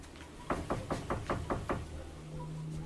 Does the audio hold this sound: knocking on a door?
yes